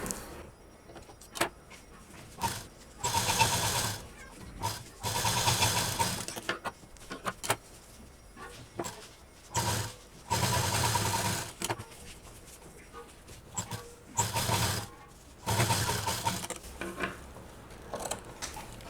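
A sewing machine stitching piping onto both sides of a fabric sewing-machine cover, running in repeated bursts of rapid whirring stitches separated by short pauses.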